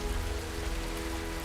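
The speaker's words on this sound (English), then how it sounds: "It's still raining." Rain falling steadily in a film scene, a soft continuous patter close by with no voices over it.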